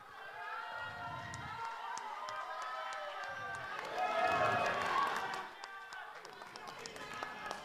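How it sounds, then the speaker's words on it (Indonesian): Audience applause and cheering swell at the first 2024 North Sumatra gubernatorial debate, with clapping rising to a loud peak midway before fading, while voices talk and call out throughout. "beri tepuk tangan yang meriah"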